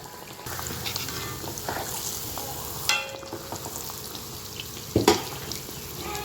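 Athirasam dough fries in hot oil with a soft, even bubbling sizzle, punctuated by a few sharper splashes and clatters as pieces are moved; fairly quiet and close, with no voices.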